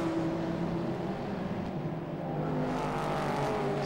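Race cars lapping the Oulton Park circuit in an endurance race, including an Ultima-based Tyrannus and a Porsche, make a loud, continuous engine roar that rises and falls as they pass nearby.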